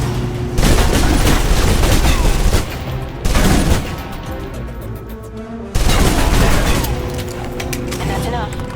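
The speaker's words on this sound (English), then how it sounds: "If you're trapped in close quarters with multiple opponents, the SMGs can help clear the room quickly" Submachine gun fire in the Alpha Protocol video game roars in loud, dense sustained bursts, three long volleys separated by short pauses, close and dominant with no talk over them.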